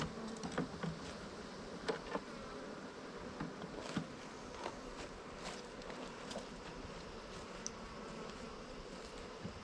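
Faint honeybees buzzing in a low, steady drone around hive boxes with occasional soft bumps and handling noises nearby, outdoors and without speech.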